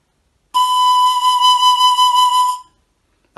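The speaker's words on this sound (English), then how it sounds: "You could use a drinking straw. All you do is cut it to size" A single sustained whistle from a drinking straw cut to size, sealed with blue tack and closed at one end by a finger, sounds loud, close and steady for about two seconds, then stops abruptly.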